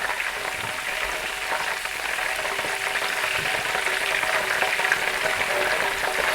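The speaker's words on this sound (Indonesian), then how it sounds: "Sekarang saya menggoreng daun jeruknya ya." Kaffir lime leaves fry in hot oil, giving a continuous close sizzle and crackle with scattered small pops and no talking.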